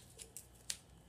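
Scissors snip through double-sided tape during an Armattan 258 FPV quadcopter build, with three quiet, crisp cuts spaced apart over faint room hiss.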